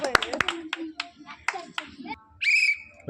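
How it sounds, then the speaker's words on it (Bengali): Sharp hand claps ring out in quick irregular bursts at a local ball-into-bottle prize game, mixed with voices and a short whistle near the end. "হাততালি, হাততালি, প্রথমটা চলে গেছে"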